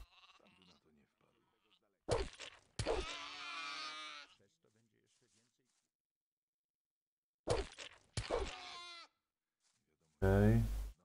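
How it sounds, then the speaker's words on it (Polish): Sheep in the game Gothic bleat in a few short, wavering bursts separated by quiet gaps, with someone speaking softly between them. "I owce nasze."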